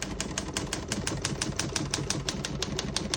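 Keys strike steadily on a 1950 Olivetti Lettera 22 portable typewriter, a rapid, even run of sharp close clacks without any talk.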